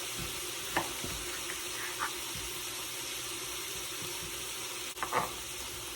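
Ground beef sautéing in an Instant Pot for cheeseburger soup gives a steady, soft sizzle throughout, with a few faint clinks and stirring touches and no voices.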